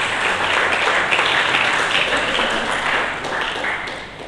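Loud, dense congregation applause fills a church hall, many hands clapping continuously before easing off slightly at the end.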